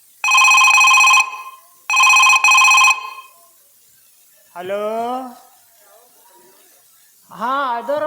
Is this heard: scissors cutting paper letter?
no